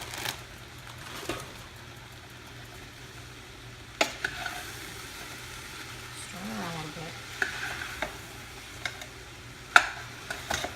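Kale wilts in a soup pot with smoked turkey kielbasa, giving a soft steady sizzle broken by occasional clinks and scrapes of a spoon stirring, quiet and close, with no talking.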